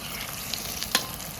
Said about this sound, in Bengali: ভাজাটা এমন ভাজবেন যাতে ভেতরে মাংসটা কাঁচা না থাকে।